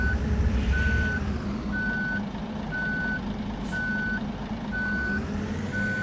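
Backup beeps from a bus reversing into a parking spot in the Android game Otobüs Simulator Ultimate: seven evenly spaced, steady electronic tones over a low, rumbling engine idle.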